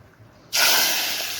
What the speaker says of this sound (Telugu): సో ఈ పోపు అనేది పప్పులో అయితే వేస్తున్నాను